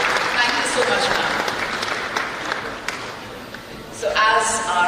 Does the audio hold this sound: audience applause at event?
yes